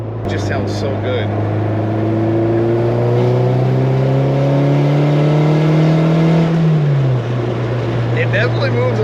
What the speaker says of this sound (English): What I like about this exhaust tone and everything is that you can just cruise like we are now